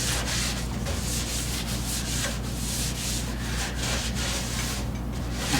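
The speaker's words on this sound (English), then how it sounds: "if you take lacquer thinner and you rub it on here" A cloth soaked in lacquer thinner rubs back and forth over the paint of a 1968 Camaro in a garage, a continuous close scratchy swishing with steady rhythmic strokes and no voices.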